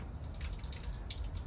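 Water runs and splashes out of an RV's low point drains onto the ground, a soft continuous gurgling flow heard faintly at a distance, with no talking.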